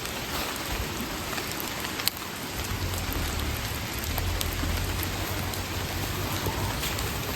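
Rain falls outdoors as a steady, dense hiss of drops, loud and continuous throughout, with one sharp tap partway through and a low rumble rising underneath.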